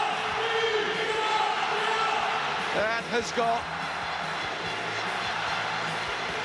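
A stadium crowd roars for an Italy try in a Six Nations rugby match, a dense sustained cheer under an excited commentator's voice, swelling briefly before settling.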